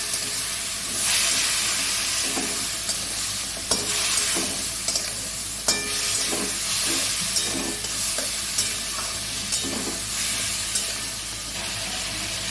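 A spice paste loosened with a little water sizzles and bubbles in a pan while a spoon stirs it, giving a continuous steamy hiss with repeated scraping knocks throughout, close and without talk.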